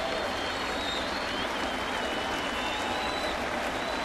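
A baseball stadium crowd during a night game in New York, steady broad applause and crowd roar holding throughout without breaks.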